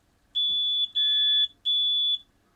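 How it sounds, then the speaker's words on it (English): A diathermy insulation tester's alarm sounds after an instrument fails its insulation test: three loud, high-pitched electronic beeps, each about half a second long, separated by short gaps. "If there's a flash there as well as the alarm going off"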